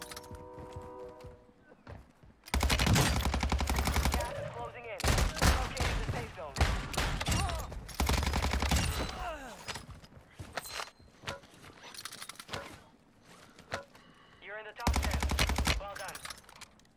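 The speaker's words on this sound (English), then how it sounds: "I'm gonna shoot them when they're flying off." Gunfire in Call of Duty: Warzone, several loud bursts of rapid automatic fire separated by short pauses, with lighter scattered shots and movement sounds between them.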